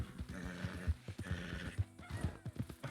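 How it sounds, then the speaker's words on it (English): A video game horse whinnies amid rhythmic hoofbeats, with several sharp low thuds of hooves striking ground, close and clear. "I thought I heard another horse."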